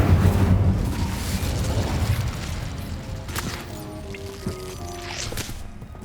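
A fiery Incendio spell bursts in Hogwarts Legacy with a loud roaring whoosh at the start, then fades into crackling, scattered magical tones and clinks.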